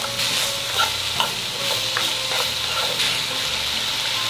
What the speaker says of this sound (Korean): 호박은 부서지지 않도록 살살 저어가며 볶아주세요